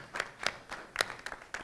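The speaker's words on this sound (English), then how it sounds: "Yes, that deserves applause." A handful of audience members clap at a school board meeting, with about seven separate, sparse claps spread over a moment rather than a full round of applause.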